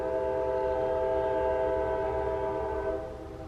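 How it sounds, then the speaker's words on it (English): A train rumbles past with a steady, tonal drone and low rolling noise, loud and close, fading slightly at the end. "There's the train."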